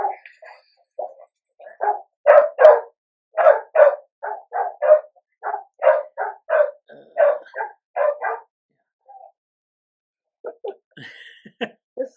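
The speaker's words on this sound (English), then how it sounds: "Just so long as my dogs don't start barking" Several dogs bark in sharp, repeated bursts, loud and fairly close, sometimes overlapping in quick runs, then pause before a few scattered yips and whimpers near the end.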